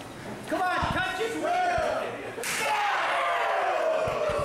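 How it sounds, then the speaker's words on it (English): A single sharp chop from pro wrestler Eric Cannon lands on the floor outside the ring at a wrestling show. The slap cracks out once mid-clip beneath continuous excited commentary, with a faint crowd behind it. "A big chop from Eric Cannon on the floor"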